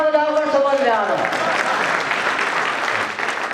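An audience at a Hindi kavi sammelan poetry gathering at the Kishanpur fair bursts into applause that cuts across a speaking voice and carries on as steady, dense clapping.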